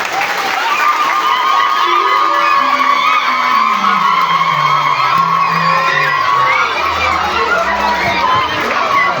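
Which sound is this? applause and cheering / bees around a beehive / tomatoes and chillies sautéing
applause and cheering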